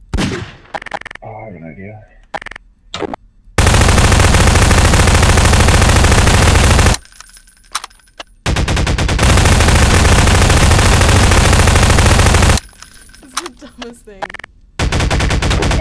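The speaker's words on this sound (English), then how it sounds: "This guy's just shooting." Gunfire in the sandbox game Garry's Mod, loud sustained bursts of rapid automatic shooting broken by short quiet gaps, with someone speaking briefly between the volleys.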